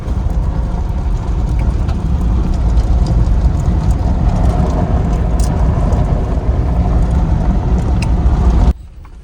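Car engine driving off-road on a rough track between Nubra and Pangong in Ladakh, a loud, steady low rumble with rattling and bumps that cuts off abruptly near the end.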